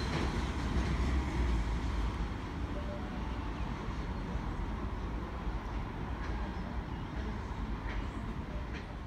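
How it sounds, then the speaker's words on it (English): A freight train bound for Port Botany rolls past at Broadmeadow with a dense, steady rumble and faint wheel clatter, loud and continuous throughout. "And that train is headed to Port Botany."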